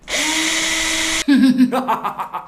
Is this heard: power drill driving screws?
yes